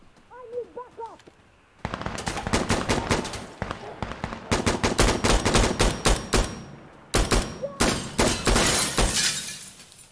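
Bursts of automatic gunfire in Insurgency Sandstorm, a co-op match against AI, crackle loud and near in rapid volleys with short pauses between them, following a brief moment of quieter sound at the start.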